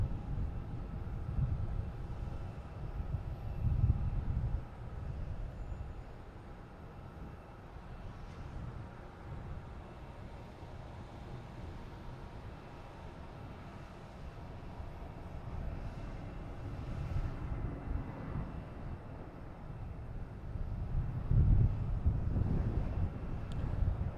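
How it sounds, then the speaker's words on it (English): A JetBlue airliner takes off at Boston Logan Airport as a steady, distant low roar mixed with wind buffeting on the microphone, swelling a little louder near the start and again toward the end. "That JetBlue taking off."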